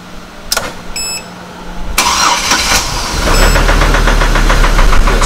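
A Hummer H3 engine cranks and catches, then settles into a steady, loud, close idle at about 800 RPM with a rhythmic low throb and a faint ticking knock, with no talk.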